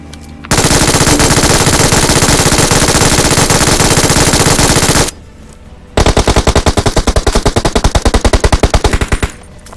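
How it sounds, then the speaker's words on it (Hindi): MG3 machine gun fired in BGMI (PUBG) in two long loud bursts of rapid, evenly spaced shots, close up, with a short pause between them and no talk. "पबजी में अगर कोई रिकॉइल के लिए सबसे अच्छी गन है तो वो है MG3"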